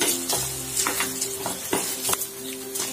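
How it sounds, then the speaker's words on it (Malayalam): Coconut pieces fry in ghee with a steady crackling sizzle, punctuated by repeated soft scraping taps of a spoon stirring the pan, close and fairly quiet with no voices. "കുറച്ച് നെയ്യ് കൊടുത്തിട്ട് തേങ്ങാപ്പൊട്ടൊന്ന് വറുത്തിട്ടുണ്ടാക്കാം."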